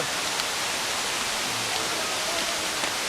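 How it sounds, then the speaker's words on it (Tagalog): Balete Falls in Amadeo, Cavite gives a steady, dense rush of falling water, close and constant for the whole stretch with no voices over it. "Dito na kami sa Balete Falls."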